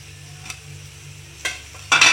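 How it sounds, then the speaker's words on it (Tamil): Sliced raw banana being stirred in a frying pan, with a few short scraping stirs over a low steady background and a louder clatter at the end. "இதை போட்டு நல்லா கிளறி விட்டுக்கலாம்."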